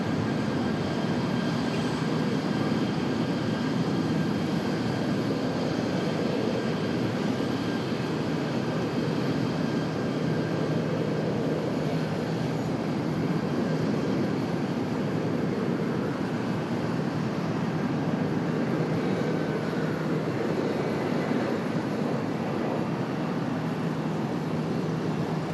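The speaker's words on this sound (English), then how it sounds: "I can hear an A319 departing" An Airbus A319 jet departs Charlotte airport, its engines giving a steady, sustained roar with a broad rumbling drone and no speech.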